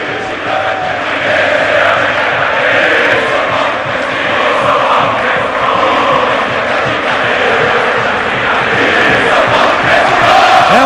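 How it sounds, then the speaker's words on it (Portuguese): A large crowd of São Paulo and Fluminense fans fills a football stadium during a 2008 Copa Libertadores quarterfinal, producing a loud, continuous roar of chanting and cheering that holds steady throughout. "É um grande público, uma grande festa, mas ó, a torcida do Fluminense, que está atrás do gol"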